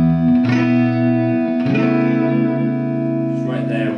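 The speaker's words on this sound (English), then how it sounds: "Just right there with a bit of reverb and the tremolo." Electric guitar played through a Vox AC15 amp with reverb and tremolo, ringing sustained chords that swell and pulse, loud and close, with decaying reverb tails between strums.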